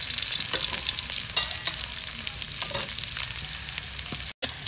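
Onions sautéing in a pan after garlic, a close, steady crackling sizzle with faint stirring clicks, continuous and even throughout without talk.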